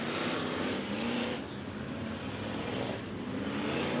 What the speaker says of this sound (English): heat race number 3 has rolled out onto the raceway